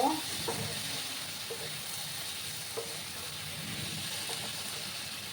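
Small shrimp masala with Kashmiri chili powder sautéing in a pan, a low steady sizzle broken by a few light clicks of a spoon stirring.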